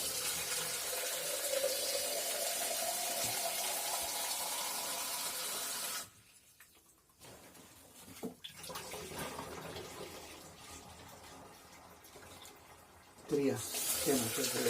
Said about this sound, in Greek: θα ρίξω 4 λίτρα νερό, αφού έριξα 4 κιλά ζάχαρη